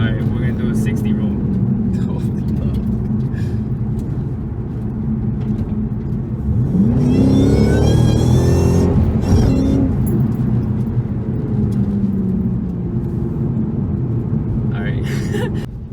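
A Shelby GT500 running Weld S-71 wheels and drag radials accelerates hard from a 60 mph roll, its loud engine rumble climbing and surging at mid-clip before settling, heard from inside the car with talk.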